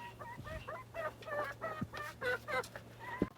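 Chicks in a straw-bedded coop cluck in a quick series of short, close chirpy clucks over a low steady hum, with no talking.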